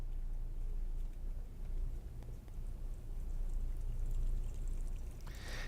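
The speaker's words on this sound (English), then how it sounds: "I'm going to pour some hot water in this one." Hot water pouring steadily into a container, a continuous close rushing stream lasting several seconds with no talk over it.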